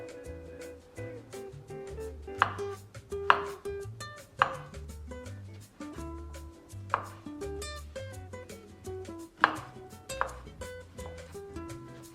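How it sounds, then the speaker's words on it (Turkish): Vegetable stems thinly sliced with a knife on a board while preparing curry chicken: a series of sharp, irregular chopping strikes, close by, over steady background music. "Böyle ince ince doğruyoruz."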